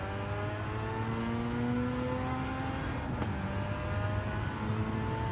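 Car engine racing in Gran Turismo, a steady loud drone with rising and falling revs through gear changes, alone without talk.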